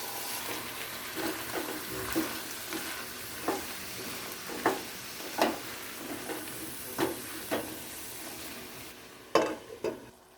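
A soft sizzle of zucchini sautéing with tomato paste in a pan, punctuated by regular scraping knocks of stirring, quiet and close.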